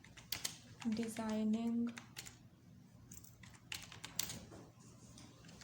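Computer keyboard keys tapped in short irregular bursts while someone speaks Hindi, designing a calendar in a graphics program; the clicks are close and light, mixed in with her talk.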